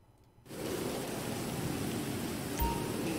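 Steady rain in a video game begins abruptly after a brief quiet moment, then continues as a constant, fairly loud hiss with a short low thump near the end.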